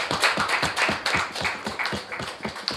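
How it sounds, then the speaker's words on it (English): Audience clapping for teams at a formal debate, a brief round of sharp, individually audible claps from a modest crowd, close and without speech. "Yes, I think a round of applause is deserving"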